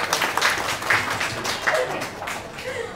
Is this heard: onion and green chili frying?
no